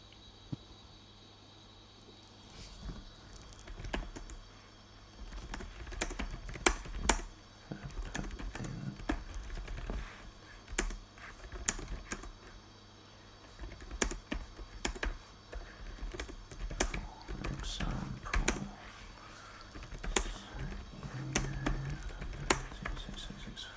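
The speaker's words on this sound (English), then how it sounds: "Oh, terrible typing." Someone types on a computer keyboard in uneven bursts of clicks and taps, close and fairly quiet, with pauses between flurries and a faint steady hum underneath.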